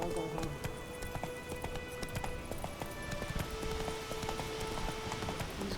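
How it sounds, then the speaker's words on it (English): Horse hooves clip-clopping at a fast gallop in The Witcher 3, a steady rhythmic pounding with game sounds layered over it. "get on your horse!"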